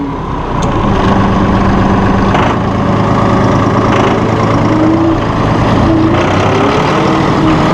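Diesel engine of a Massey Ferguson 2604H small-chassis two-wheel-drive utility tractor running at steady revs, a loud, continuous low rumble with a faint whine rising and falling, close by and with no one speaking.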